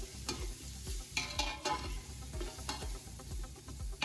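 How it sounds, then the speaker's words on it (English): Onions sautéing in a pan while being stirred, with a lively sizzle broken by repeated scraping and clattering stir strokes in an uneven rhythm, close and clear, with no talking. "We're gonna saute these onions."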